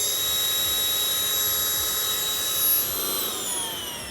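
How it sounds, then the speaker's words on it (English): A Zempire Monstapump rechargeable pump runs steadily, deflating a foam camping mat with a loud, continuous high-pitched motor whine and airy hiss that shifts slightly in pitch toward the end. "So once again, turn this to deflate, screw the valve in, attach the pump, turn it on,"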